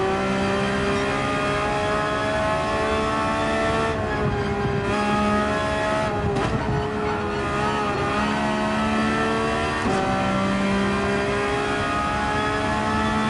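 Engines of the cars in a Gran Turismo 7 drag race at Monza rev hard and drone, with sustained loud whines rising in pitch through gear shifts and no pause across the whole stretch.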